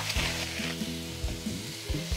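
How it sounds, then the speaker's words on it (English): Finely broken-up ground beef sizzles in a hot frying pan, a steady crackling hiss punctuated by the scrape and knock of a utensil stirring it, with no voices over it. "In a nice hot frying pan, break it up real good so it's in very fine ground beef."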